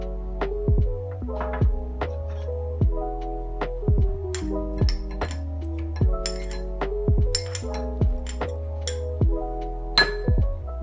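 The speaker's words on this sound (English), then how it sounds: "The first thing that we will do is dissolve half a teaspoon of salt in warm water." A spoon clinking against a glass while stirring salt into warm water, a dozen or so bright ringing taps at an uneven rhythm, close and clear with no talk.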